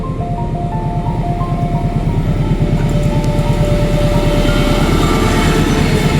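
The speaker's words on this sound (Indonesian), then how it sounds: "Ini dia kereta dari arah Jakarta, dari arah Purwakarta melintas kembali menuju arah Bandung" Train crossing the Cisomang railway bridge between Purwakarta and Bandung, a loud, close, continuous rumble with rapid rhythmic wheel clatter on the rails and faint squealing tones above it, no voices.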